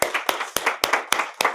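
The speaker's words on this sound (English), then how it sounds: "Let's clap for her." Six sharp claps in a steady rhythm, close and fairly loud, with no voices.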